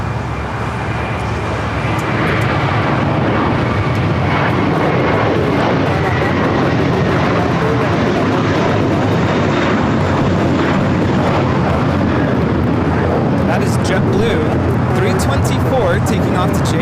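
An Airbus A321 rolls and climbs out from LAX bound for JFK, producing a loud, steady broadband engine roar that builds and holds throughout, with people talking over it.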